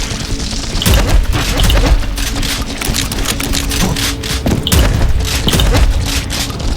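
A fast barrage of booming, crackling gunfire and explosions fills the first-person shooter Prodeus. The shots are loud and almost continuous, with heavy impacts at regular intervals over a steady background din.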